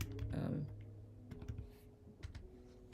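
Scattered clicks of typing on a computer keyboard with a faulty Enter key, irregular and fairly faint, following a brief burst of louder voice or noise at the start, with a low background hum underneath.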